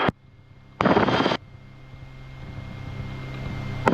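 A Rotorway helicopter on a low approach at Hardy Field gives a steady low engine and rotor drone, with a brief loud broadband rush of noise breaking in near the start.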